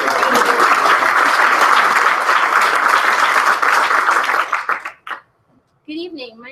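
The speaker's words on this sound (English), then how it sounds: "So make sure you give her a big Yeah." A room of attendees at an evening meeting gives a loud round of applause for a sponsor of ZeekBeek, dense clapping that holds steady and then fades out, followed by a voice beginning to speak.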